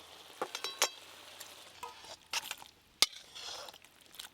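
Thick, gravy-like okra curry is tipped out of a cooking pot, marked by a few quiet, scattered metallic clinks and scrapes of a spoon against the pot.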